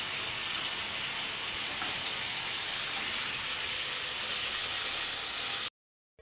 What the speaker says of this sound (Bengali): এই যে চুয়া পাতার টক মাছের মাথা দিয়ে রান্না করতেছি।